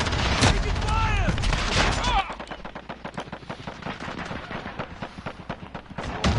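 Rapid automatic gunfire from a Call of Duty multiplayer match, loud, dense bursts over about two seconds, then continuing sharper individual shots in a quick irregular rhythm, with in-game voice chatter mixed in.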